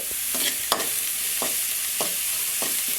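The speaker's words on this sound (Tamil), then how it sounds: "இப்போ நம்ம வெங்காயம் கட் பண்ணி வச்சுருக்கிற வெங்காயத்தை சேர்த்துக்கலாம் வெங்காயம் வதங்குறதுக்காக கொஞ்சமாக உப்பு சேர்த்துக்குங்க" Chopped onion with a little salt sauteing in an oiled pan, a steady close sizzle broken by several rhythmic stirring scrapes of a spatula, with no talking.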